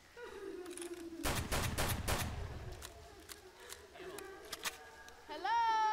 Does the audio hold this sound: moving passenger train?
no